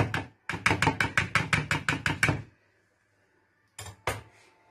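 Eggs with salt and spices whisked for a Spanish omelette, a fork rattling quickly against the bowl in a steady run of about a dozen close clinks, a pause, then two more short strokes.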